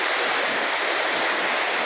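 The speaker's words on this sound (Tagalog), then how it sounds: "Karon may pulipid ang purtong kusugang hangin ug ulan." Steady, dense roar of strong wind with a hiss like heavy rain outside, continuous and loud throughout with no voices, heard from indoors at night.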